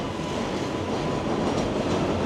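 A New York City 7 subway train rumbles past in Queens, a steady, loud broadband roar of rail noise sustained throughout with no pauses.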